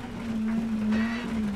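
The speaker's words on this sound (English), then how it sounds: "the car makes all sort of weird noises" A rally car in the racing game WRC 10 drives a gravel stage, its engine holding a steady droning note with rattles and scrabbling gravel noise over it, close and continuous.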